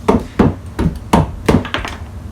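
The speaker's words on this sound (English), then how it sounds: "Take your 1/4 inch extension, stick it in there, and just tap it out." A 1/4 inch extension used as a drift taps a bearing out of a Reds Racing WRX nitro engine, giving six or seven sharp, close metallic knocks in a steady, evenly spaced rhythm.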